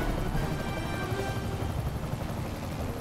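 A helicopter in the Spider-Man video game gives a steady low rotor and engine drone, constant and fairly loud across three seconds, with no talk over it.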